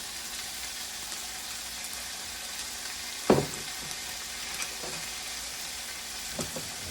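Pasta sauce sizzles steadily in a hot pan, a constant close frying crackle, with one sharp clink or tap partway through and a few softer knocks from stirring later on.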